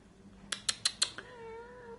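A pet cat meows loudly and close, about four quick rising calls followed by a softer trailing cry in a quiet room.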